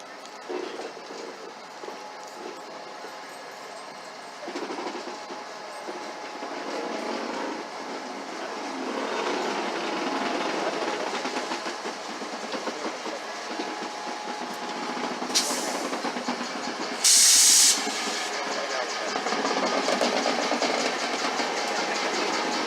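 South Shore Line electric train rolling along its route, a steady broad rumble with rail noise building midway and a brief sharp high-pitched tone or squeal near the end, heard continuously without talk.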